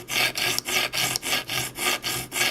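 A knife blade drawn repeatedly across a sharpening stone, finishing one side before switching to a coarse stone; steady rhythmic rasping strokes, about eight even passes with brief gaps, close and clear with no talk.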